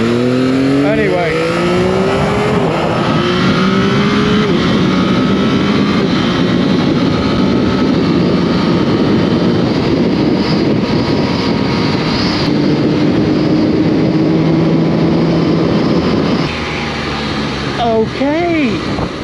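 Yamaha XSR 900 GP motorcycle engine accelerating on a test ride, loud and continuous with rising pitch sweeps through quick-shifted gear changes, wind noise throughout, and a couple of sharp revving climbs near the end.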